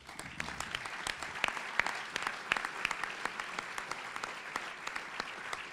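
An audience applauds steadily at a government announcement in Argentina, with many hands clapping in a dense, continuous patter heard from a moderate distance.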